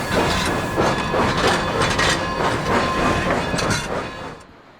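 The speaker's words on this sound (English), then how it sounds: "the trains rocking and rolling through the Animas River Valley" Durango & Silverton narrow gauge train rolling along tracks in the Animas River Valley, a steady loud rumble with rhythmic clickety-clack of wheels over rail joints and faint hiss, easing off at the end.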